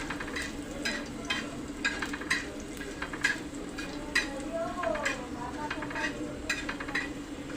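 Coriander seeds, cloves and pepper roasting in oil make a soft background sizzle broken by frequent light spoon taps and scrapes against the pan, quiet and close, with no speech.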